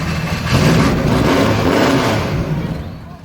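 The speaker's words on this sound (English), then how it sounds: "firing up and driving a Lotus 23 through the streets of Duns" A Lotus 23 race car engine revs loudly and close up, a sustained rough mid-pitched roar that holds steady and then eases off at the end.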